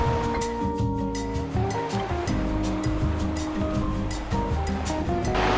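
A creek at the Flatbed Creek dinosaur footprint site in Tumbler Ridge rushes in a loud, steady, close wash of flowing water with no break.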